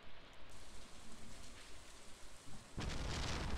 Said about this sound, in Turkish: Şimşek. Buraya düştü.